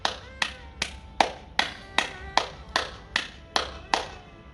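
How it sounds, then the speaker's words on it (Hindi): Hands clap about ten times at a steady, even pace during a beginners' immunity yoga exercise, each clap sharp and close with no talk over them. "दोनों हाथों को ताली बजाइए 10 बार।"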